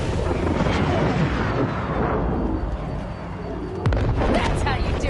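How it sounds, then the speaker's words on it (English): Rocket launcher blast bringing down a flying vehicle in the Cyberpunk 2077 video game, a heavy roaring explosive rumble with debris crackle, ending in another sharp booming hit, loud and close, with voices faintly under it. "That's a rocket launcher!"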